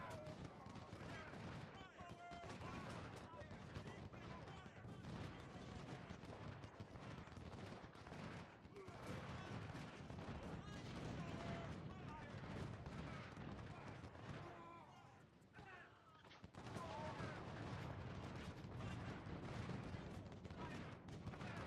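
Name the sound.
artillery and rifle volleys in Ultimate General Civil War video game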